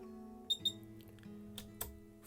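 F-stop darkroom enlarging timer sounding two quick close beeps, then softer clicks, while a black-and-white test strip is exposed; faint and alone over a quiet room hum.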